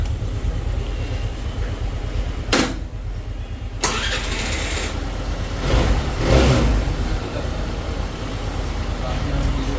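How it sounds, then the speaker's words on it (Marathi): A motorcycle engine cranks and catches, then settles into a steady loud idle with a brief rev midway; a voice is faintly audible. "गाडी चालू तर केली"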